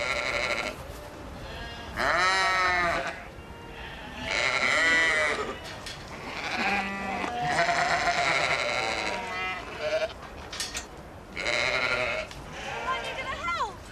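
Loud sheep bleating close by, a run of wavering calls in bursts, one after another over steady rustling background noise.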